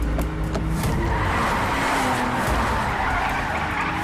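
Tires skid hard and loud as a car speeds through a movie chase in an action film, a continuous dense screech with engine roar running steadily throughout, no voices over it.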